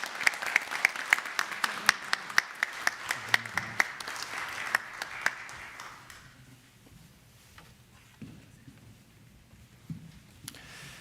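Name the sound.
congregation applauding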